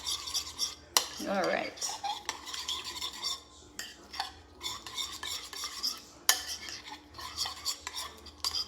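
A spoon stirs creamy sauce for fish tacos in a bowl, with repeated clinking and scraping strokes that are close and fairly loud. A brief spoken remark sits among the strokes.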